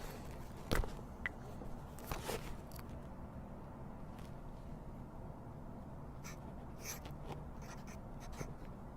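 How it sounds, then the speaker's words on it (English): A pen scratches quietly across paper at close range, with soft continuous scribbling broken by a few sharper taps and clicks in an otherwise hushed room. "I'm going to write something down"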